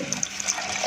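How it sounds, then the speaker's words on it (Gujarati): Water poured into gram-flour batter for kadhi, a steady close splashing trickle that runs for just under a second on its own. "પાણી એડ કરી દઈશું"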